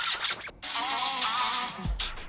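A DJ track being scrubbed through in Rekordbox, giving a smeared, warbling rush of music that speeds and slows, loud and close, with a short scratchy low swoop near the end.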